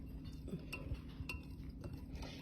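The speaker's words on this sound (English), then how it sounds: "So you want to swirl this together with a whisk now at this point." A whisk swirls through melted chocolate chips and heavy cream for ganache, producing faint soft scrapes and light metallic taps against the bowl in a quiet, uneven rhythm.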